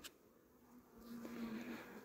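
A steady honeybee buzz hums close by at an open hive, rising slightly in the second half with a sustained low drone, no voices.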